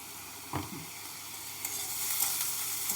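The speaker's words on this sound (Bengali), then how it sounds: "তো লাউ ছোকলাটা আমি একটু ভেজে নিচ্ছি" Bottle gourd peel frying in a pan with salt and a little turmeric gives a soft, steady sizzle, with a couple of brief stirring scrapes near the start. The sizzle swells slightly toward the end, and no one speaks.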